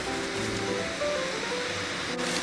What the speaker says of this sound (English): the water is very boiling, so I'm just gonna put those cabbages in the water